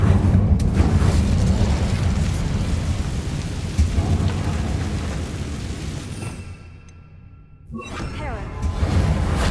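Incendio fire spell in the video game Hogwarts Legacy, a loud, sustained roaring, crackling rumble that fades and briefly drops away, then surges back up.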